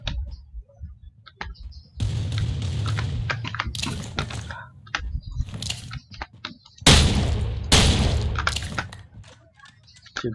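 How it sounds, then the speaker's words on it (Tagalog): Sharp broadband bursts of video game gunfire crack out in irregular clusters, some single shots and some quick volleys, over a low rumbling background. "naririnig yan ang kalaban yung putok ng baril natin"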